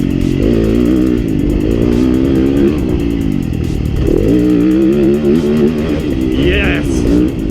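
Yamaha YZ250FX 250 dirt bike engine pulling hard out of a corner and climbing; loud, close engine note that rises and dips as it revs and accelerates continuously.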